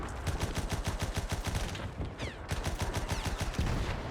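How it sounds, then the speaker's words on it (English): Rapid, evenly spaced gunfire booms from a World War I field gun battle in Between Empires, loud and close, a steady rhythmic volley of sharp reports with a brief dip midway before resuming, no voices. "that's a field gun firing straight at me"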